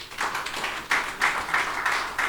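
Audience applause at a power sector conference in a hall, a few clustered bursts of clapping swelling in waves, fairly close and without talk.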